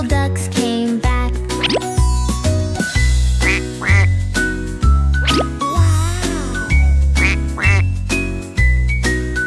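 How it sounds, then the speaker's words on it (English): A duck quacks repeatedly over a bouncy, rhythmic music track, the quacks cutting through the melody at regular intervals. "Mama duck said quack, quack, quack"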